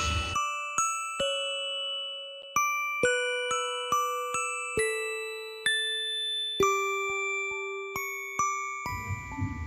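A bell-like ding sound effect, a series of clear metallic chimes struck one after another at varying pitches, ringing out and fading between strikes, with no voices.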